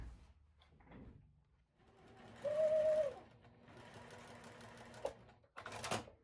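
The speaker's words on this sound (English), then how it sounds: "So I'm going to sew the 2 D's to the 2 E's." A sewing machine stitches quilt block pieces together in a couple of short runs, with a steady whirring hum between quiet handling sounds and a brief sharp clatter near the end.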